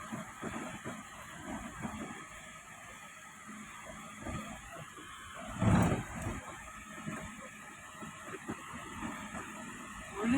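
A car cruises with a low engine hum and road rumble, then jolts over a speed breaker with one heavy thump near the middle before rolling on.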